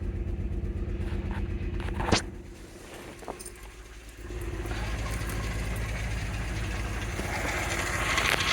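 A VW VR6 12-valve engine, with its secondary air pump deleted, idles steadily up close right after its first start-up following maintenance repairs. It gives a continuous low rumble with a brief louder catch early on.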